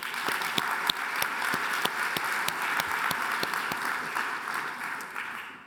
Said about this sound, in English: So we can get a round of applause for Shubham